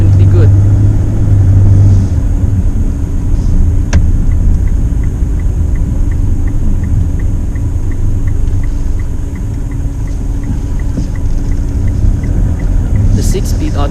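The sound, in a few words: Mitsubishi Strada diesel pickup engine accelerating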